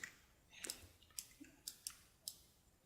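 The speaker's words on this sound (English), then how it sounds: "I can just double click on that" Sharp, faint mouse clicks on a computer while editing a movie poster in Photoshop, a quick pair early on followed by several more spaced single clicks, alone in a quiet room.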